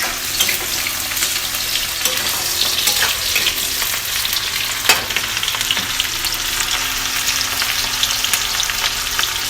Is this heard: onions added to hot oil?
yes